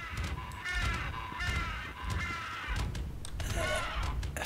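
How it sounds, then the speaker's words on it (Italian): A clockwork crow in a video game gives a series of loud, harsh caws over busy game noise. No one talks. "Fa il verso di un corvo a orologeria."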